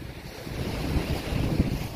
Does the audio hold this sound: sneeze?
no